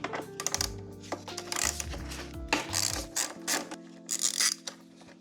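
A ratchet fitted with a T40 bit works on an exhaust bolt of a BMW R1300GS motorcycle, giving close, quiet clicking and mechanical rattles in irregular short bursts.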